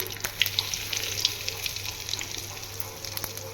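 Panch phoron, bay leaf and asafoetida sizzle steadily in hot oil for a Bengali white shukto, a close, continuous crackling hiss with scattered pops and no voices.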